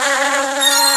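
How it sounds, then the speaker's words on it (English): A bee in the Ant Smasher mobile game gives a steady, close, high-pitched electronic buzz that drones evenly throughout, with no voices. "don't touch the bee."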